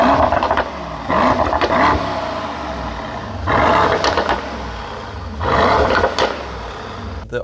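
A Mercedes-AMG GT 4-Door Coupe, GT63 S or GT53, in sport mode revs its engine in three loud, close bursts that rise and fall with steady idle rumble between them.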